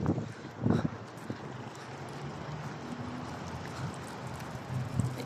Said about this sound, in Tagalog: Oh, ang lakas ng hangin.